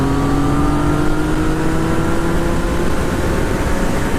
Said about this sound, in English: The acceleration in the FZ-09 is absolutely nuts